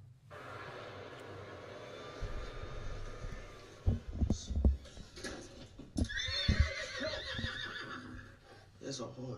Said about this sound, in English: There's a horse in your house.